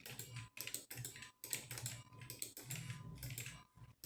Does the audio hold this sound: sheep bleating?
no